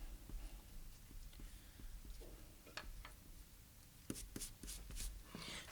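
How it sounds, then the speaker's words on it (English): A pencil eraser rubs out guidelines on a hand drawing, faint scratchy strokes on paper in short irregular bursts, with a quicker flurry of rubs toward the end. "I'm going to go ahead and erase these guidelines."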